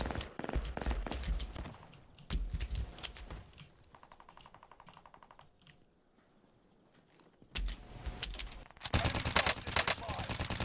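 Video game gunfire, with rapid bursts of automatic shots near the start, a quieter stretch of lighter firing in the middle, and a dense, loud volley at the end.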